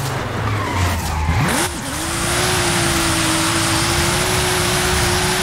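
A 2023 Nissan Z with a twin-turbo engine drifts in Forza Horizon 5, its tyres skidding loudly while the engine revs up and settles into a steady, sustained high drone under continuous squeal.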